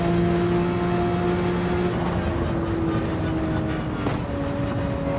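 Porsche 911 engine in the Gran Turismo 7 racing game, held at high RPM as a steady, loud mechanical drone with sustained pitched tones, one dipping briefly as if shifting, under continuous road noise.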